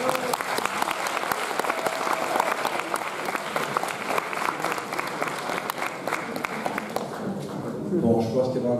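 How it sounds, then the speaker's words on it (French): An audience applauds steadily at the closing ceremony of the Etrange Festival 2021 film festival, with dense, continuous clapping that stays loud throughout and swells slightly near the end. "il vous a vu l'applaudir"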